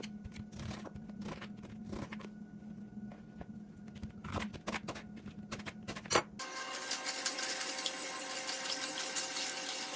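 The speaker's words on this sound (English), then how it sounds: "So I'm gonna go ahead now and put it into my juicer." A slow juicer presses cucumber, celery, green apple, lemon and ginger, giving a steady mechanical hum broken by knocks and squeaks; partway through the sound shifts to a brighter, continuous whir with a dripping, rushing texture, all close and with no talk.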